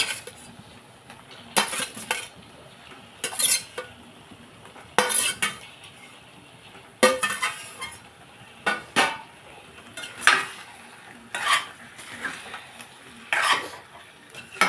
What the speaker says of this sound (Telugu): ఉడకబెట్టుకున్న దుంపలు ఇందులో వేసేసుకుని